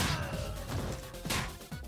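Hammer blows smashing enemies in the video game Streets of Rage 4, several quick crunching hits in succession with whooshing swings, loud and close amid busy game noise.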